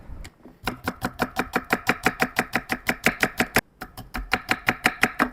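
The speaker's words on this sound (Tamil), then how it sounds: "நானும் இந்த வெங்காயம் வெட்டுறதுங்கிற கஷ்டமான வேலையை தான் ஆரம்பித்தோம்" Onions chopped by hand with a knife on a board in a home kitchen, a steady fast run of sharp close knocks, about five per second, with one brief pause partway through and no talk.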